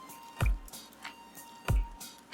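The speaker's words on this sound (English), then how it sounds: "Let us first start by washing our rice." Japanese sushi rice is washed by hand in water, giving two distinct wet squishing sloshes about a second apart, close and quiet with faint drips between.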